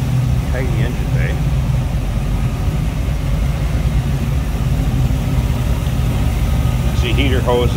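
A 1934 Ford Model 40 five-window coupe engine idles in a steady, low, even rumble, close and continuous throughout, with a voice speaking briefly over it near the start and end.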